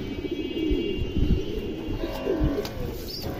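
Mukhshi pigeon chicks coo softly and close up in short, low, uneven bursts over a faint steady background hum, with no one speaking.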